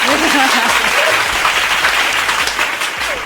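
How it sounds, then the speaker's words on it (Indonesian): A studio audience claps steadily and loudly through the whole stretch at the close of an Indonesian IT talk show, with faint voices under the applause. "Oke, tepuk tangan lagi Mas."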